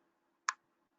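A single sharp computer mouse click sounds once, crisp and brief against near silence.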